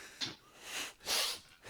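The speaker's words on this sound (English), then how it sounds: "I sneezed on the screen there" A sneeze right next to a computer webcam indoors: a sharp, breathy burst near the start, then a louder, fuller blast about a second later, close and unvoiced, with no talking.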